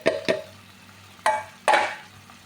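Bitter gourd (ampalaya) going into a pan with ground meat, giving a few sharp clattering hits and a brief rush of sizzle, with quiet gaps between them and no talking.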